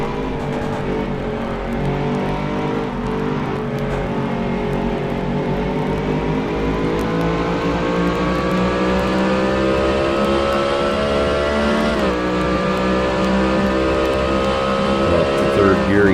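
Sustained race car engine in a racing video game, Circuit of the Americas, droning loudly with rising pitch as it climbs through gears uphill, a brief dip around a shift, then steady high revs throughout.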